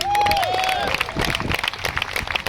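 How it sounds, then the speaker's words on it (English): A crowd applauds officials at an outdoor racial justice march and teach-in, a dense wash of clapping mixed with cheers and voices after a brief whistle-like tone. "Give yourselves a hand"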